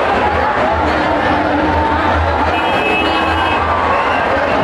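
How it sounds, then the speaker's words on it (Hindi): A large, dense festival crowd at the Ravan Dahan fair by Delhi's Red Fort, a loud continuous hubbub of many voices, chatter and scattered cheers with low traffic rumble underneath, close and unbroken throughout. "देखो भाई कितनी तगड़ी वाली भीड़ है, बहुत भयंकर भीड़ है भाई"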